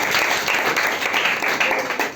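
Applause from an audience at a school award ceremony, a steady, dense wash of clapping filling the room throughout.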